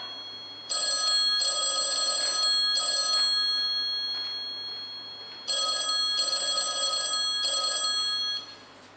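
A telephone bell rings loudly in two long bursts of trilling rings with a brief pause between, no voices.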